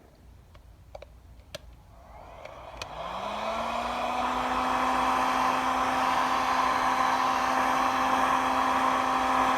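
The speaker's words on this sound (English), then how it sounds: "we're going to heat it up with the heat gun to make it a little easier to get it off" A heat gun switches on after a few faint clicks, rising into a steady, loud whirring blow with a fan hum as it heats the pedal of a Gotway Tesla V2 electric unicycle; a voice talks briefly early on.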